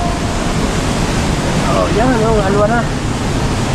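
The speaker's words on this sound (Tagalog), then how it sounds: "Para ang lakas ng bagsak ng tubig pala dyan" A strong waterfall crashes with a loud, constant roar of falling water, and people talk briefly over the noise.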